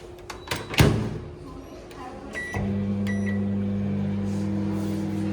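A microwave oven reheats cold cooked vegetables: a few clicks and a door thud, then a steady low hum with an electrical buzz starts and runs on, close and clear.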